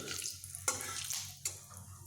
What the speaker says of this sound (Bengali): তেল গরম হয়ে গেছে এখানে আমি কালো জিরি ফোড়ন দিচ্ছি ফোড়নটিকে এইভাবে একটু নেড়ে নিচ্ছি